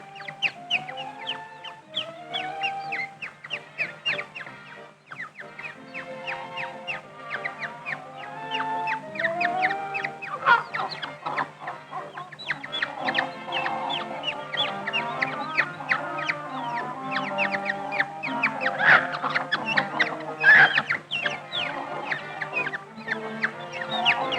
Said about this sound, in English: he finds that a hen and her chicks are in there